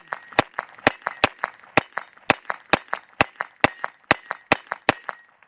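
Glock 44 pistol firing Golden Bolt .22LR rounds: a magazine's worth of sharp, ringing cracks, about a dozen shots in a steady quick rhythm, each followed by a faint echo or metallic clink, loud and close with no talking.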